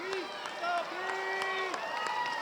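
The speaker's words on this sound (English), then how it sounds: "as the crowd calls his name" An outdoor crowd at a Super G ski race cheers and calls out a skier's name in drawn-out shouts over a murmur of voices, with scattered claps mixed in, fairly distant.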